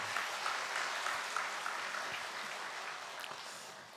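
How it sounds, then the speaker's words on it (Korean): Congregation at a Sunday church service applauding in welcome, a steady wash of many hands clapping throughout, moderately loud and unbroken. "우리 박수로 환영하겠습니다."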